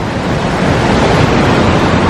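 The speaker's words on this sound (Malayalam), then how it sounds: "വെള്ളത്തിന്റെ സൗണ്ട് കേക്കല്ലേ?" Rushing water at Athirappilly Waterfalls makes a steady, dense roar that fills the whole stretch at constant loudness, with no pauses and no voices.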